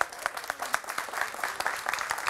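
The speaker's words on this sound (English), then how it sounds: "Round of applause for them." Audience at a science communication competition semi-final applauds the judges, a crisp flurry of distinct claps forming a busy, fairly even patter at moderate volume.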